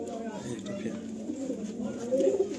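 Pigeons coo softly inside a pigeon loft, a low, steady murmuring that runs throughout while someone talks over it.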